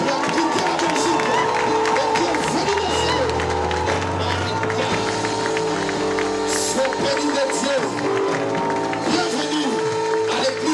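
A church congregation cheers, claps and shouts in welcome for a prophetess, a dense crowd din with music and a voice speaking over it throughout.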